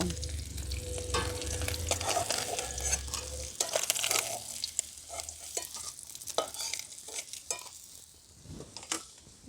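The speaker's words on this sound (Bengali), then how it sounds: "দেখুন মাছগুলো আমি এরকম লাল লাল করে ভেজে নিয়েছি" Puti fish frying in hot oil in a pan, a continuous close sizzle with scraping and clinks as the pieces are stirred and turned.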